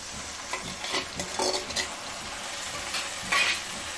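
A watery paste of ground cumin, turmeric, salt and chili powder hits hot oil in a pan for katla fish kalia, sizzling and hissing loudly, with a spoon stirring and scraping against the pot.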